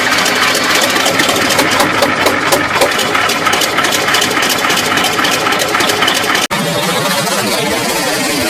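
A T-34-85 tank's V-2 diesel engine, a design originally derived from an aircraft engine, idles loudly and steadily with a rough, rapid knocking pulse, its tone shifting slightly after a brief dropout.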